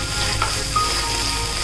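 Egg fry curry sizzles steadily in a pan while being stirred with black pepper powder, a continuous close frying hiss with a couple of faint scrapes of the spoon and no talking.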